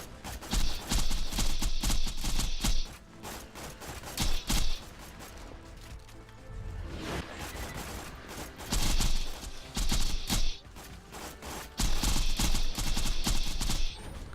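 Automatic gunfire from the video game Borderlands 2, heard as several loud sustained bursts of rapid shots separated by short pauses, with game effects between them.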